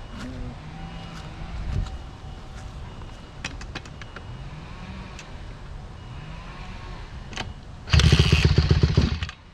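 A Honda CRF150 dirt bike engine is kicked over, sputtering briefly several times, then catching into a loud, rough idle near the end.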